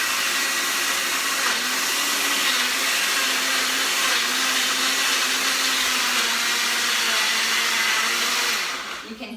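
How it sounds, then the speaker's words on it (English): A kitchen blender whirs steadily, crushing frozen fruit with yogurt and cream for freezer pops, a loud continuous motor whine with a slight wavering pitch that runs the whole time before cutting off at the end. "I'm giving it a little shake to get some of the yogurt and the cream down next to all of that frozen fruit. And we're gonna blend."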